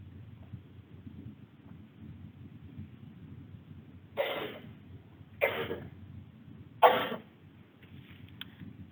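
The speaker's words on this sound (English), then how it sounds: "my cough is post-nasal drip that preceded this virus" Three separate coughs from one person, sharp and moderately loud against a quiet, faintly noisy room, spaced about a second apart.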